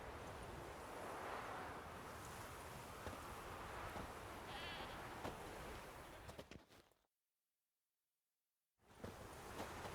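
A goat tied to a stake as forktail bait in the Witcher 3 video game lets out faint bleats over a soft, windy outdoor ambience, which drops to silence for a couple of seconds before returning.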